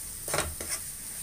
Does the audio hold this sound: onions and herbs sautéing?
yes